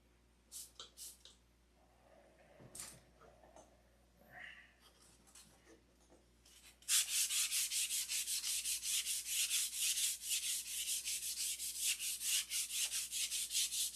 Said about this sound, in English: You guys just look at this stupid old man sand away.